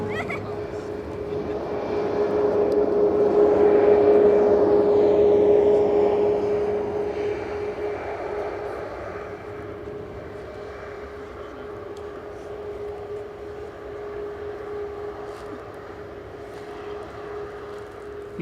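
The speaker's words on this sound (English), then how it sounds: "EasyJet's just landed from Paris." An EasyJet airliner lands at Manchester airport after a flight from Paris, its engine noise swelling to a loud whine with a steady tone, then easing into a lower continuous rumble, with voices talking over it.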